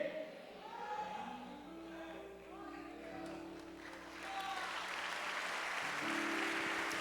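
Church congregation applauding during a sermon, a soft, steady wash of clapping that builds toward the end, with a preacher's voice speaking over it.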